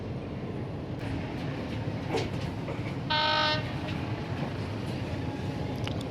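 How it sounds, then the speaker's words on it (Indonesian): Majapahit passenger train at Ngunut station during a crossing, a steady rumble of rolling wagons throughout, with a short, loud horn blast of about half a second near the middle. "Kereta api Majapahit harus bersilang teman-teman di stasiun Ngunut."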